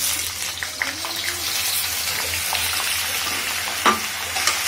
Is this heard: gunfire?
no